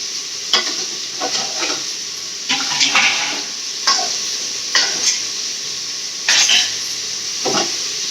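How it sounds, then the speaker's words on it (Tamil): Sambar vegetables sauté in a hot pan under a steady sizzle. A spatula scrapes and stirs in repeated bursts, roughly every second or so, loud and close with no voices. "காய் வதங்கிச்சுப்பா. சாம்பார் காய் வதங்கிச்சு."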